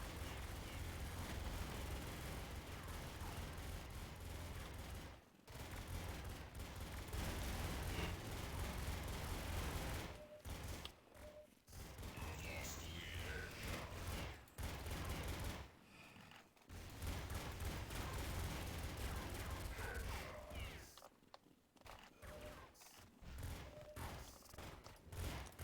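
Rapid bursts of gunfire from guns in the Tomb Raider video game, dense volleys of shots that stop and restart several times, loud and continuous between brief gaps.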